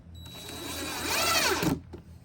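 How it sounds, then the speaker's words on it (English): Power driver sinking a 1-inch deck screw into a cedar fence picket, a close whirring motor rising in pitch and load for under two seconds, then stopping abruptly. "I'm going to screw this in with the same screws I was using earlier, the 1-inch deck screws."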